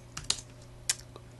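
Sparse typing on a computer keyboard during a LISP programming demo, a few distinct quiet keystrokes with pauses between them in a hushed room.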